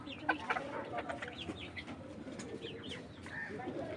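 Small golden ornamental chickens cluck and chatter close by in a busy pen, a faint voice talking under the bird noise.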